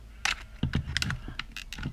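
A VW Transporter T5 door lock actuator and door mechanism clicking and clunking, a close series of sharp mechanical clicks and knocks with uneven spacing.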